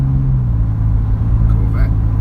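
A Corvette drives past on an American road, a steady low engine rumble with a faint rise in pitch near the end, heard from inside another vehicle with voices in the background.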